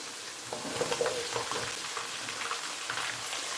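Red onion, white onion and whole garlic cloves sizzle and fry in a pan for a carrot ginger soup while being stirred, a steady crackling hiss broken by soft scraping and clinking of the spoon.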